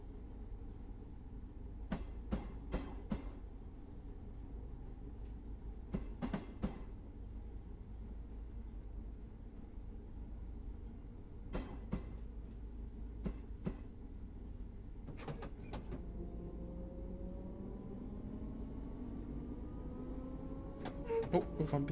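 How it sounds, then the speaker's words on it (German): Train Sim World 2 S-Bahn-style train on the Cathcart Circle in Glasgow pulling slowly out of the station at about 15 mph, with a low steady rumble, scattered sharp clicks and a rising whine of traction motors toward the end. "Wir fahren nämlich mit 15 mph erstmal nur aus dem Bahnhof raus."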